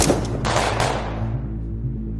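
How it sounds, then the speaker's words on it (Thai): Gunshots ring out in an indoor hall in a mafia drama: several sharp blasts close together at the start, then a low rumbling decay under a dense, loud backdrop. "เสียงปืนสองมาจากทิศทางไหนไม่รู้"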